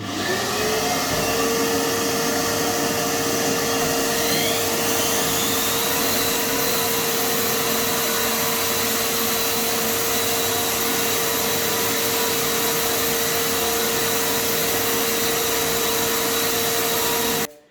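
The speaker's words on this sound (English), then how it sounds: "I'm going to use a giraffe sander that we bought for the earlier rooms to get this done" A giraffe sander hooked up to a vacuum hoover runs steadily while sanding walls in a house renovation, giving a loud, continuous whirring drone with a sustained tonal whine and no talking.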